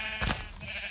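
A single short sheep bleat from the Minecraft video game, heard nearby and fairly soft, with no talking over it.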